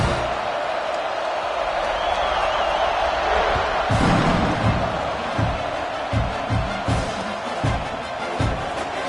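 A stadium crowd in an NCAA football video game roars steadily as a dense, continuous wash of noise, with a voice talking over it and a few thumps near the end.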